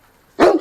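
A big dog gives one loud, close, deep bark after near silence, short and sharp.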